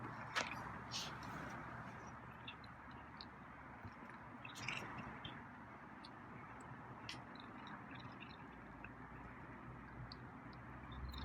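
A feral cat eats its food hungrily and fast, producing continuous soft, wet chewing and slurping noises at close range, with occasional crisp crunches and scrapes over a steady low background hum.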